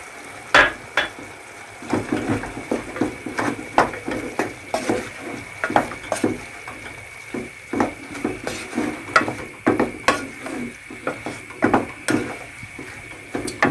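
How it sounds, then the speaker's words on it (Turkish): A spoon repeatedly scrapes and clinks against a pot as spices are stirred into a spoonful of tomato paste, giving a sequence of irregular metallic knocks over a low background sizzle. "Bir kaşık salçamız var ve baharatlarımı hepsini karıştırarak koyuyorum."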